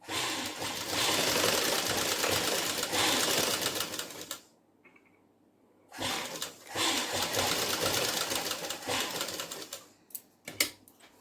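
A sewing machine runs in two long bursts of double stitching on a padded blouse, a steady rapid whir with a short pause between runs and a couple of sharp clicks near the end.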